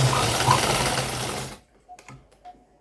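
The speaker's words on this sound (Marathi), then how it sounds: "आणि इथे सुरुवातीला आपण डबल टेबल सिलाई करून टक करून घेतो व्यवस्थित" A sewing machine stitches folded fabric for a decorative tassel in one continuous close whirring run of about a second and a half, then stops, leaving a few soft clicks and light handling sounds.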